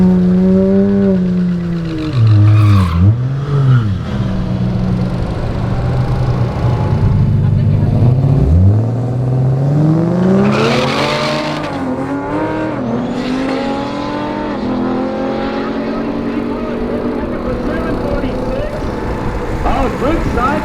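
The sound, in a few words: race cars side by side on track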